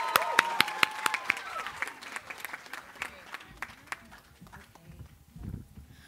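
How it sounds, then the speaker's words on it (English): A crowd at a nursing college white coat ceremony applauds a nurse practitioner cohort, sharp scattered claps at first that thin out and fade into a quieter room. "can we give a round of applause, please, for Cohort 38 FNP?"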